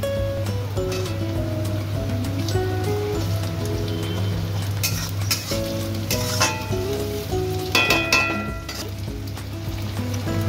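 Mutton curry masala sizzles and fries steadily in a pan with chopped tomato added, a constant close crackle with brief stirring scrapes, no voice over it.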